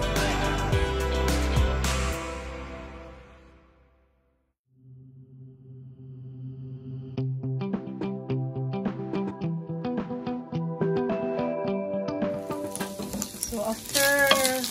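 Brown rice frying with mackerel in a hot pan, a steady sizzle with rapid scraping clicks of stirring after a louder clattering start and a brief pause.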